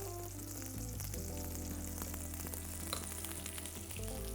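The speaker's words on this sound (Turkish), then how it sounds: "Mantarlarımı iyice kavuracağım." Mushrooms sauté in a hot pan for a chicken and mushroom hummus dish, giving a steady, even sizzle with faint scraping, with no voices.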